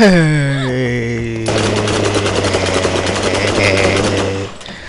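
Enemy gunfire in the video game Borderlands, a steady rapid rattle of shots running for several seconds over a tonal hum, loud and continuous before cutting off.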